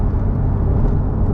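Tuned twin-turbo Porsche 991.2 GTS engine pulling hard under acceleration, a loud, steady low rumble close by with no break and no voices.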